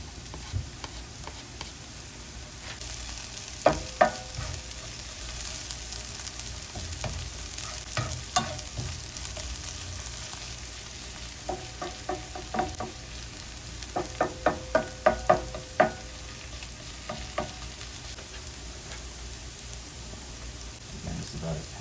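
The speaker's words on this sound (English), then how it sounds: "The garlic now. I'm gonna let that cook for about a minute or so." Garlic cooks in a pan with a constant soft sizzle, broken by scattered bursts of utensil scrapes and taps against the pan.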